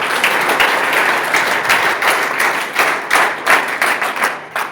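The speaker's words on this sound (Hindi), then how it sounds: "अपने लिए जोरदार तालियां बजा लें।" Participants at a college NCC wing programme for National Youth Day give themselves loud applause: vigorous, close clapping from a group that stays full and energetic, with individual claps popping out as it begins to thin near the end.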